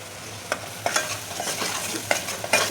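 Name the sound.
masala stirred and frying in oil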